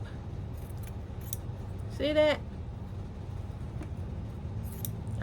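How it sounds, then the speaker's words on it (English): A brief snip of scissors chopping fabric into small crumbs, one crisp metallic cut standing out over a steady low background hum while a person speaks briefly. "I just take my scissors and chop it up."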